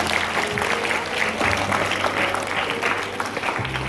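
Steady, dense applause from a school morning assembly crowd, filling the whole stretch at an even level with a faint murmur beneath.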